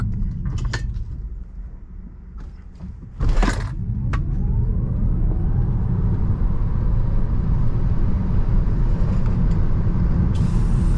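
A 2023 Tesla Model 3 Performance electric car accelerates hard from 0 to 60, its steady low drive noise swelling and holding loud after a brief clunk, with a faint rising electric whine.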